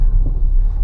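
Wind buffets the microphone on a Grand Cayman beach in a steady, low, rumbling roar that continues without a break, with no voices heard.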